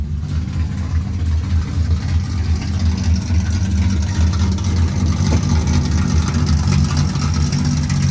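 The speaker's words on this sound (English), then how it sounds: "Let it idle. It sounds like a V8. Like a V8 sound." A Datsun 240Z with a swapped engine idles close by. Its low, lumpy, V8-like rumble runs steadily throughout with a slight rhythmic lope and no talk.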